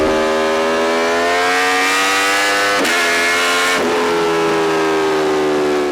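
An Aprilia Tuono V4 1100 Factory motorcycle accelerating hard, a loud, close V4 engine howl climbing in pitch, with two brief gear-change breaks before it keeps pulling.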